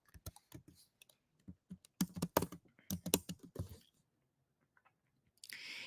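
Close, quiet typing on a computer keyboard: quick bursts of crisp key clicks with short pauses between, ending in a soft rush of noise, no speech.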